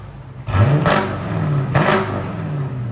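2020 Jeep Grand Cherokee with a 5.7L HEMI V8 and X-pipe straight-pipe exhaust, two sharp, loud throttle blips that rise and fall within a few seconds over a steady idle, close by.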